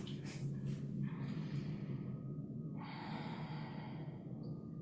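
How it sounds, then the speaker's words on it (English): Slow, deep breaths drawn in and released during a relaxing yoga session, soft and close, with a long exhale and inhale audible and no talking. "Let's go for 5 slow breaths."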